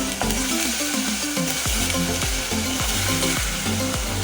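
A tomato and onion mix fries in a pan with a loud, steady sizzle, while a utensil stirs and knocks against the pan in a quick, regular rhythm, close and with no talk.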